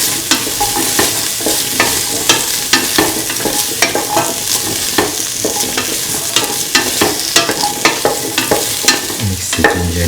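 Potato pieces being stirred into a ginger rice mixture in a frying pan, with steady scraping and clinking strokes of the spoon over a continuous sizzle, close and fairly loud, no talking.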